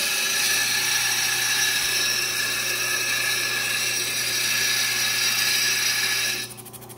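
Lapidary wheel grinding a cabochon stone down toward its bezel line, a steady, loud whirring grind with a high mechanical whine throughout, easing slightly near the end, no talking.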